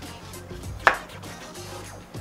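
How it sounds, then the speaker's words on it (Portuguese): A knife chops an onion on a board in a home kitchen, one clear sharp cut standing out among quieter taps, close and alone. "Agora a gente vai cortar a cebola."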